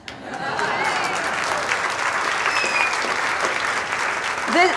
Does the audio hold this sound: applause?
yes